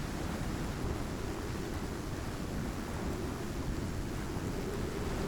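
A thunderstorm in the survival game Icarus, with dense rain and low rumbling that stays loud and constant, alone with no voices.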